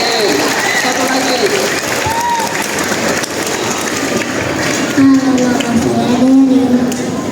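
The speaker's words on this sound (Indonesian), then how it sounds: "Tepuk tangan untuk Jojo ya" An audience claps throughout a school patron saint's feast day celebration for Santo Dominikus, a steady, loud, crowd-sized applause with voices talking over it.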